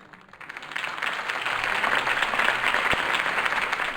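Crowd applause at a political campaign rally in the Batman Telltale video game, swelling from a quiet start into steady, dense clapping that carries on for several seconds.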